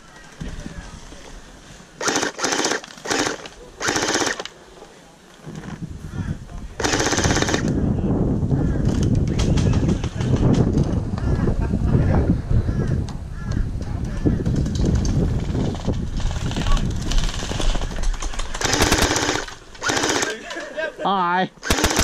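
An M249 V3 LMG gel blaster fires in short bursts and longer rattling strings, with sharp mechanical clatter, louder and denser in the middle, as people talk and shout close by.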